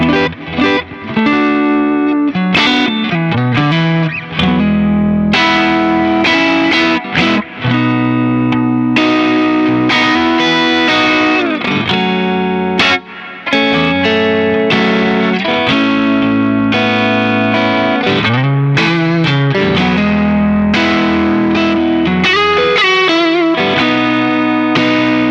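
A Fender Richie Kotzen Telecaster electric guitar plays continuously through effects, loud and close, with dense distorted chords and runs and brief pauses between phrases.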